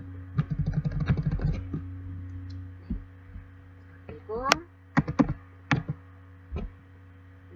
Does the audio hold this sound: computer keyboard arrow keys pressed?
yes